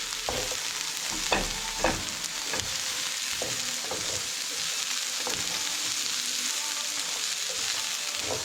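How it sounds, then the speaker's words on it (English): Onion with star anise gently frying in a pan over low heat, a soft steady sizzle with occasional stirring scrapes and clicks, close and fairly quiet with no talking. "we've got the onion in the pan. It's only on a low heat, and we've got that all-important ingredient in there, the star anise."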